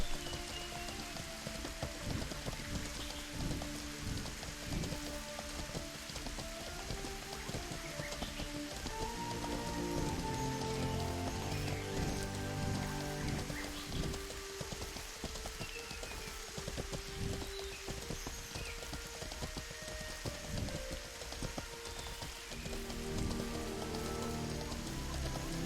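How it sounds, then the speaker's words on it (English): Rain in the online fantasy game Mortal Online 2 falls as a steady dense patter on surfaces, continuous for the whole stretch, with soft game music and faint hoofbeats in the background. "It's rainy, yeah, of course."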